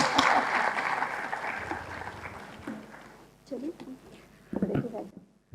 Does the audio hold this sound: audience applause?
yes